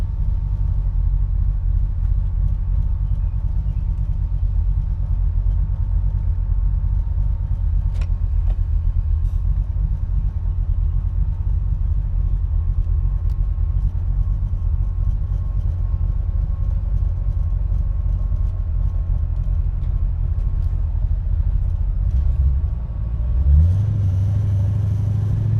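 A cold 1983 Ford Mustang Foxbody notchback with a 5.0 engine idles roughly, giving a steady low rumble that holds close and constant throughout, with a slight shift near the end.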